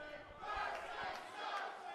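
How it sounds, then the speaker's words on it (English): Wrestling crowd at a live NWA Exodus Pro Midwest show, a loud mass of shouting and chanting voices filling the hall, steady and dense for the whole stretch with no single voice standing out. "The majority of the crowd screaming,"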